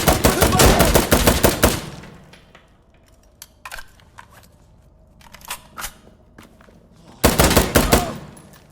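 MK18 CQBR rifle fire in the video game Insurgency Sandstorm: loud rapid automatic bursts open and close the passage, with scattered single shots and clatter in the quieter stretch between.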